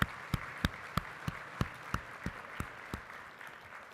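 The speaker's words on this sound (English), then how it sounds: "Let's give them another big round of applause." Scattered clapping from an audience honoring a children's choir, a few sharp individual claps standing out over a soft wash of applause, close and moderate in level throughout.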